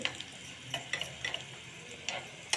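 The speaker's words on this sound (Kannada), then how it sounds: "ಸಾಸಿವೆ, ಜೀರಿಗೆ, ಬೆಳ್ಳುಳ್ಳಿ, ಕರಿಬೇವು, ಒಣಮೆಣಸಿನ್ಕಾಯಿ ಒಂದು ಈ ರೀತಿಯಾಗಿ ಫ್ರೈ ಮಾಡ್ಕೊತಾ ಇದ್ದೀನಿ" Mustard seeds, cumin, garlic, curry leaves and dried chilli crackle and spit in hot oil, with sharp pops scattered over a quiet, steady sizzle close by.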